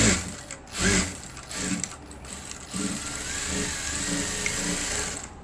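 A sewing machine stitching a blouse back panel, its needle mechanism clattering rapidly in close, continuous runs with brief pauses and slowdowns, no talking.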